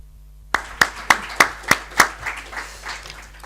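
A group of students in a classroom setting gives a short round of applause: about seven distinct, evenly spaced claps rise out of silence and then blur into a softer patter that quickly fades.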